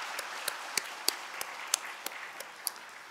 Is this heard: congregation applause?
yes